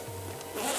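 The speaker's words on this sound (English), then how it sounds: "Good enough zipper." The zipper on a small pouch holding a cheap soldering kit is pulled open in one quick, close rasp, quiet and brief.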